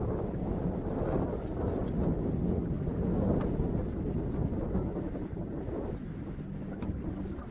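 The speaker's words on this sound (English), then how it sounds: "you can tell this wind blowing pretty good into this point here" Strong wind buffets a microphone on a fishing boat out on the water, a steady loud low roar with gusty swells across the whole stretch and no voices.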